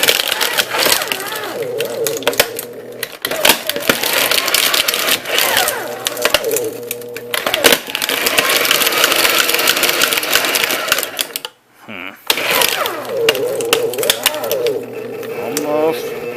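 Paper shredder motor grinding steadily through floppy diskettes, a loud continuous churning with uneven crunching bursts and a brief stall near the end before it restarts; someone talks over it.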